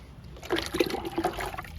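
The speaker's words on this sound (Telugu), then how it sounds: "చిక్కుడు పాదుకి లిక్విడ్ ఇద్దాము." Liquid fertilizer is poured onto a bean plant, a short burst of close gurgling and trickling that lasts about a second.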